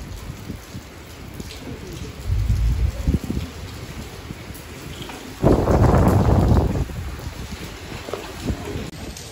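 Heavy rain pours down on a Belgian city street, a steady watery wash that swells into louder, denser surges partway through, with no voices.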